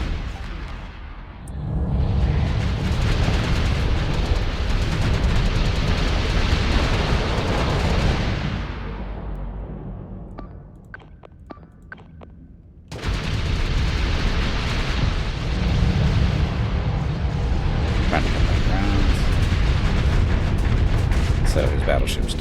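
A battleship blowing up in the space game Starsector brings loud, dense booms and rumbling blasts that fill most of the stretch, then dip briefly into quieter crackles before another heavy burst of explosions.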